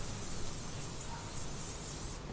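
Canola oil spray hissing steadily from an aerosol can onto an iron skillet, a close, continuous spray lasting a couple of seconds.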